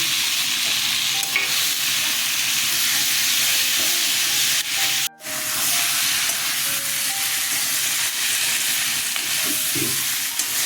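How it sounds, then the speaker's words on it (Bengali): Potatoes and tomatoes frying in a pan with turmeric and salt, giving a loud, steady sizzle and hiss with faint stirring scrapes, broken by a momentary gap midway. "আলুগুলো ভালো করে কষানো হয়ে গেছে"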